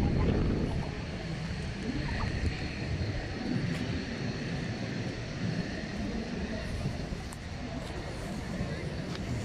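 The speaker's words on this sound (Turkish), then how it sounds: "Chinook helikopterlerinin yük ve malzeme nakliyesi için kullanılan bir helikopter cinsi." A CH-47 Chinook helicopter drones steadily at a distance, a continuous broad engine and rotor rumble at an outdoor display event.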